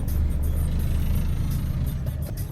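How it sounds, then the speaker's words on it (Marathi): A car on a narrow village road gives off a steady, close, low engine rumble that holds at the same loudness throughout. "अशा अचानकच गाडी येते समोरून."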